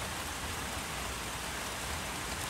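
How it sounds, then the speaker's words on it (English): Rain splashing on a beaver pond in summer, a dense even hiss of countless drops hitting the water, steady and unbroken with no voices. "Rain splashing on the pond obscures fish, resulting in many aborted dives."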